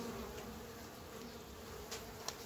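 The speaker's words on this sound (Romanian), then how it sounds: "Are albine și pe ultima ramă." Honey bees buzzing in a beehive during winter preparation, a faint steady hum with a few slightly louder individual bees passing close, no voices.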